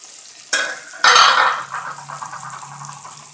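Mustard greens drop into a hot pan with garlic and ginger, setting off a sudden loud sizzle and splash that settles into a softer, steady frying hiss.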